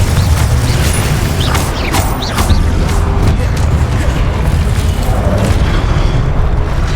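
Fiery Confringo spell blasts from the Hogwarts Legacy video game, a dense, continuous rumble of booming explosions with crackling debris over layered game effects, loud throughout with no pause.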